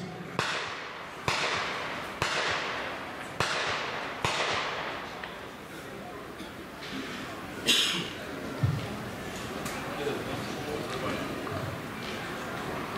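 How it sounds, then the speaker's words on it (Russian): Several sharp, evenly spaced bangs of automatic fire from a T-72B3 tank's coaxial machine gun at a tank biathlon range, then sparser distant shots follow over a steady outdoor rumble while someone speaks. "начать стрелять из спаренного пулемета"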